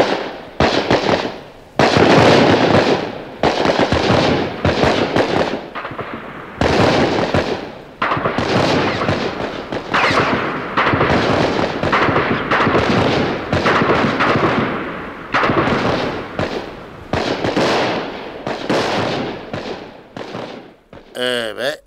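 Rapid bursts of machine gun fire crackle in a dramatized scene, loud sustained volleys broken by short pauses, with voices heard amid the shooting.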